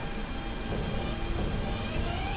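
M shuttle subway train bound for Myrtle Avenue in the Roblox Ro Scale game, a continuous loud rumble and rolling rail noise with a faint rising whine toward the end.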